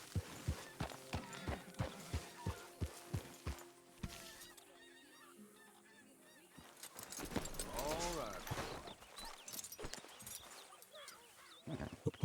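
Horse hooves in the video game Red Dead Redemption 2 clop in a steady, even rhythm at first. Then goose-like honks and voices take over, and the hoofbeats briefly return at the end.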